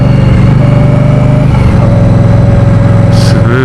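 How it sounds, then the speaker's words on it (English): A 2016 Indian Scout motorcycle, built on the Victory Octane platform, idles and runs steadily up close with a loud, even engine throb and a brief higher whine near the end. "Smooth engine."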